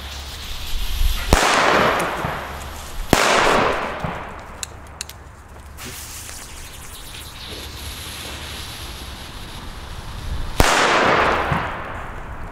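Weco Kracher Inferno firecrackers going off outdoors: loud sharp bangs followed by hissing, crackling bursts, with quieter stretches between the main blasts.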